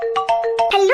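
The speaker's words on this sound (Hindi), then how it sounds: "हेलो सोना। हाँ जी, कौन?" A mobile phone ringtone plays a short bright melodic pattern of repeated electronic tones, close and fairly loud, ending in a rising note.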